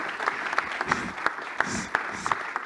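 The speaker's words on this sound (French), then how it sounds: "Applaudissez" An awards-ceremony audience in Provence claps steadily for a prize winner. The applause is a continuous wash with crisp individual claps popping out of it, and no voices come through.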